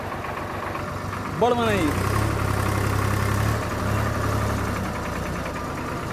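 A tractor engine idles in a Bihar village with a steady low rumble and vibration heard close by, while voices talk over it.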